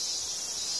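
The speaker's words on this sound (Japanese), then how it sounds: "うるさいぐらいのセミの声" Loud summer cicadas drone steadily as a dense, continuous high-pitched buzz, with no breaks or other sounds over them.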